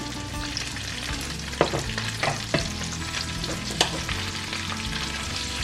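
Raw green asparagus frying together with chorizo in a pan, a steady close sizzle and crackle with a few sharper stirring clacks, no voices.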